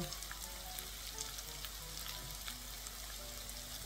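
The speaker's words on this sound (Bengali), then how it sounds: "আমরা এটা একটু ভেজে নেব হালকা করে।" Poha sizzles lightly in a pan, a faint, even crackle of frying that runs on continuously in a quiet kitchen, with no voices over it.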